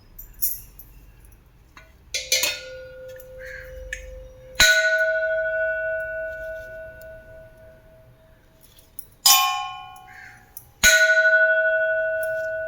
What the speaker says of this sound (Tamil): நல்லா கோயில் மணி மாதிரி சவுண்ட் இருக்குது.